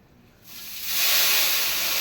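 Slices of taro root (colocasia) drop into hot oil and the fry erupts in a loud, close, steady hiss and sizzle that swells within a second and holds.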